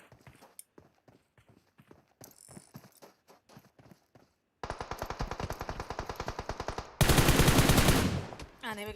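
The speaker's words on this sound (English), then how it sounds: "Yaya is firing towards Get Good." Gunfire in the battle royale game PUBG during a duo clan championship match, with scattered rapid shots at first, then a sharp burst of fast regular automatic fire, and a louder, denser stretch near the end.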